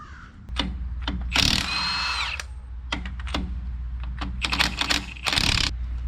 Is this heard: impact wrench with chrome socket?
yes